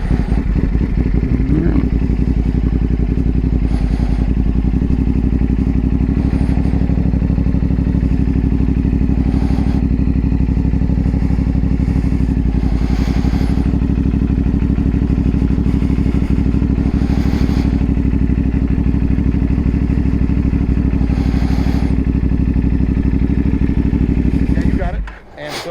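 Motorcycle ridden during a Michigan endorsement skills test, its engine a constant loud, close rumbling drone with slight rises and dips throughout, cutting off abruptly at the end.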